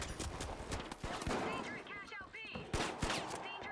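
Heavy automatic gunfire in the competitive shooter The Finals, a loud burst of repeated shots with sharp transients and a short pause for reloading, followed by more firing.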